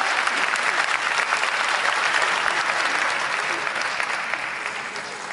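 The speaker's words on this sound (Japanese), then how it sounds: "藤井マリーさんに温かい拍手をお送りください。" Audience applauding at the Japan Race Queen Awards 2022 ceremony at Tokyo Auto Salon, steady dense clapping from a large crowd that holds loud throughout and eases slightly toward the end.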